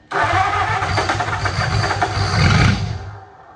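A 1927 Roadster engine cranks and catches on its first start, running rough and loud for a few seconds with a surge near the end before cutting off abruptly.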